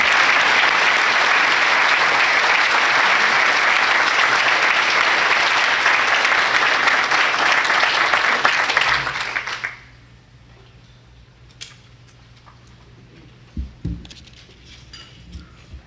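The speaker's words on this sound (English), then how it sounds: "let's give her a round of applause for honorable mention" Applause from an audience at a police department awards ceremony for an honorable mention, a dense sustained roar of clapping for about nine seconds that cuts off sharply, leaving a quiet room with a few faint thumps.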